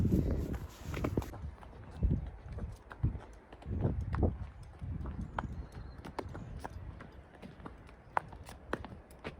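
A pony's hooves clip-clop in a steady walking rhythm close by during an outing on foot, with a few faint voices in the background.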